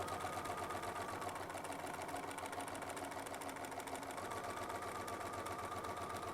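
Sewing machine tacking back and forth over the same stitches on a quilted mashup medallion, a steady close mechanical whir running throughout with no pauses.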